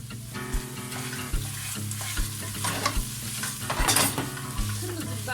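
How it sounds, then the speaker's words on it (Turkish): Peppers sautéing in a pan for Turkish meat sauté, a steady close sizzle with scraping stirs and occasional clinks of the utensil against the pan, with no voices. "5 dakikada biberlerimi de kavuracağım."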